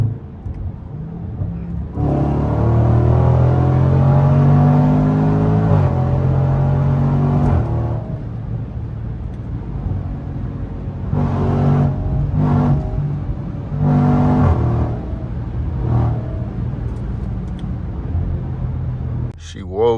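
A Range Rover SVR SUV engine hums and revs while driving, the pitch rising and falling with gear changes, close and steady, with talking at times.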